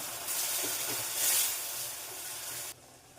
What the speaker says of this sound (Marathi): त्यातील अर्धी वाटी पाणी घालून घेत आहे